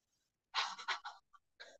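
A person imitates a panting dog as a diaphragm breathing exercise during a worship team vocal session. It comes as a quick run of loud, breathy huffs, a short pause, then a few more pants.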